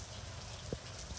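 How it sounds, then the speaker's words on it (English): Steady rain falls outdoors, a dense, even hiss of drops hitting the ground with no voices. "I just don't feel like running in the rain"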